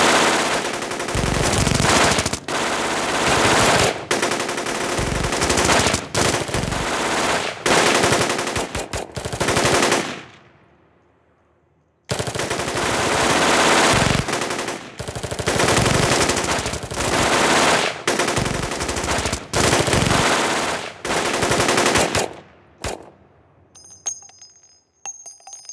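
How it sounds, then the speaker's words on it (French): Loud bursts of machine-gun fire and rapid volleys during a military show re-enactment for a paratrooper engineer regiment's anniversary, with a brief silent gap and then more sustained firing. "des tirs jaillissant de la pénombre"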